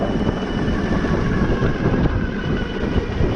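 A Super73 R electric motorbike climbs uphill on throttle alone, its drive lost under a loud, constant roar of wind buffeting the microphone with low rumble throughout.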